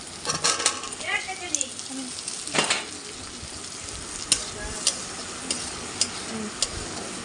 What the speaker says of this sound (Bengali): তো পেঁয়াজটা ভাজা হয়ে গেছে আমার। দিয়ে এখন আমি আলুগুলো দিব।